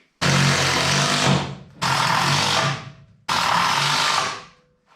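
A power drill drives screws into the wooden decking of a small trailer: three loud, close bursts of whirring motor, each about a second and a half long, separated by short pauses.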